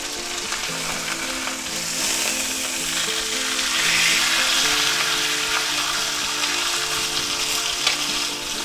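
Thick chuck steak sizzling in a hot cast iron skillet, a loud, steady crackling fry that swells slightly midway and holds on with faint spits and pops throughout.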